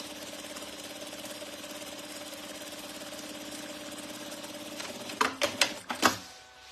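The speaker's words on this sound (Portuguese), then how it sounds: "Agora eu venho e faço uma segunda costura." Sewing machine running a steady, even stitching hum while sewing a second seam on a crossbody bag, then ending in a few sharp louder clunks and bursts near the end.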